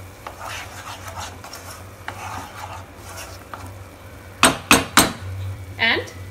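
A spoon scraping and stirring baingan masala gravy in a metal pan, soft rubbing strokes followed by a few sharp, loud clanks against the pan near the end.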